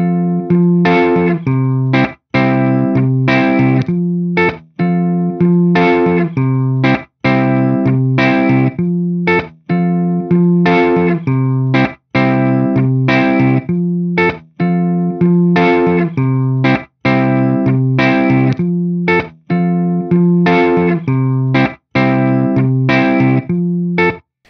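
A guitar phrase repeats as a loop on an Axe-Fx III looper with crossfade switched off, the same chordal pattern cycling about ten times, loud and steady, with a brief sharp dropout and click at each loop seam.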